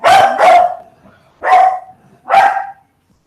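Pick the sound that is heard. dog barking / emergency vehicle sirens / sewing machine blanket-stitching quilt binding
dog barking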